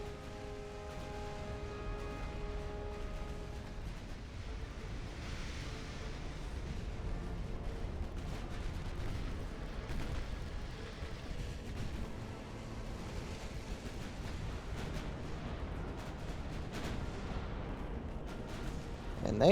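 Warship guns in Ultimate Admiral: Dreadnoughts booming in a continuous low rumble of distant naval fire over wash and surf, a few tonal alarm notes early on, loud and sustained throughout.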